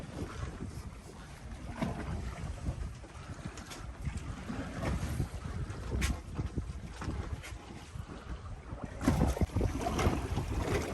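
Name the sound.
boat ride with wind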